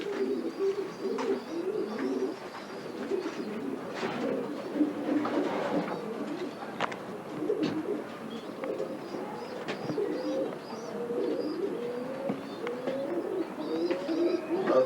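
Pigeons in a Cairo breeder's loft coo continuously in low, overlapping rolling phrases, close and fairly loud throughout, with no talking.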